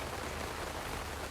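Rain falls steadily as a dense, even hiss with no voices and no breaks, soft and constant throughout.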